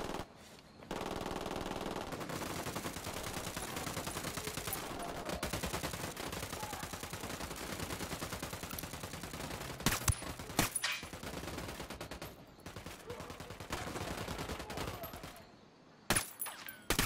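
Long, continuous bursts of automatic gunfire from a Ghost Recon Wildlands firefight rattle on nearly without pause. A few sharper single cracks and brief lulls break them up near the end.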